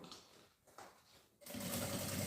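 Sewing machine stitching a backpack seam, a steady loud whirring hum that starts after a short stretch of soft handling noise.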